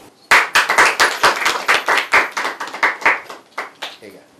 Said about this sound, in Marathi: परत एकदा टाळ्या वाजवा